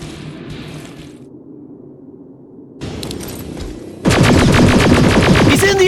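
Dense automatic gunfire erupts in Terminator Resistance after a quieter stretch, loud rapid bursts from several weapons filling the last seconds during a firefight against a machine.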